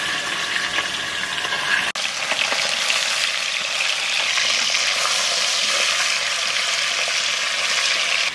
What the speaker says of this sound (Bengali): খুব বেশি ভাজবো না হালকা একটু ভাজা ভাজা হলে নামিয়ে দেবো